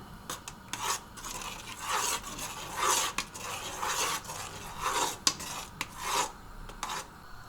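A spoon scraping and stirring mussel chowder with mushrooms just added to the pot, producing irregular rasping, rubbing strokes with a few sharp clinks against the metal, close and moderately quiet, with no talking.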